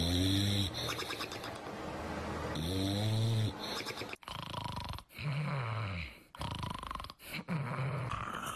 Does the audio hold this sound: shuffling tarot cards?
no